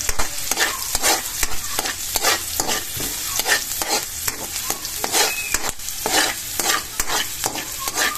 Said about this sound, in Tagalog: Haluin na po natin.